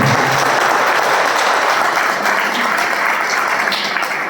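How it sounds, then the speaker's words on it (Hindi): An audience at a motivational talk gives loud, dense applause. Steady, continuous clapping from many hands fills the room without pause throughout. "तो एक बार उनके लिए जोरदार तालियां।"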